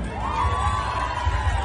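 Crowd at a salsa concert in the Dominican Republic roars with cheers and shouts, a steady wash of voices with a rising whoop, fairly loud and without clear speech.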